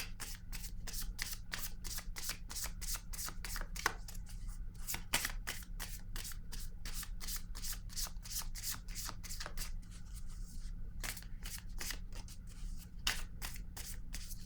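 A deck of cards is shuffled for a card reading, a long, steady run of crisp riffling flutters and rapid snaps close up, with brief pauses between passes over a low hum.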